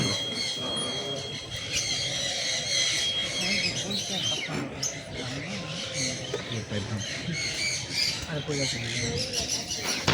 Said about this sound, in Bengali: এটা ময়ূর।